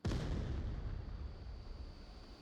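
A grenade blows up in the VR shooter Onward with a heavy, booming burst, then a rumbling roar that slowly fades over the next two seconds. No voices are heard.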